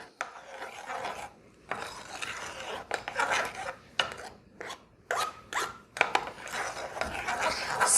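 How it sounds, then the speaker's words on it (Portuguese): Cake batter with cocoa being stirred slowly in a bowl for cake-in-a-jar, a close, rasping scrape of utensil against the bowl in irregular strokes with short pauses between them, no talking. "Vou dar uma misturadinha aqui. Devagarinho. Para misturar bem."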